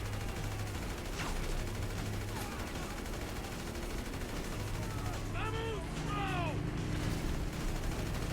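Explosions and gunfire in the video game GTA 5, played in first person, come through as a quick crisp blast amid rattling shots and mechanical noise, fairly low in level under steady game ambience.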